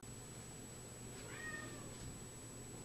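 A short meow from an orange tabby cat, rising and falling once at moderate distance over a steady background hum, with no talk.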